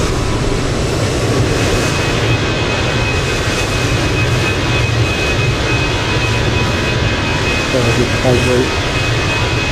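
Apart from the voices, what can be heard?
TAP airliner climbing after takeoff, gear up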